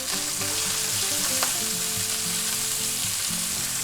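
Pork chops fry in a hot pan with a steady, loud sizzle and crackle throughout, and a brief clatter midway as a piece is turned.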